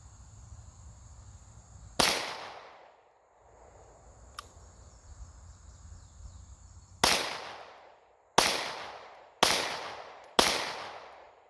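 Pistol shots with competition ammunition, 147 and 115 grain loads, at an outdoor range: one sharp crack, a pause, then four evenly spaced loud shots, each with a ringing decay and no talking.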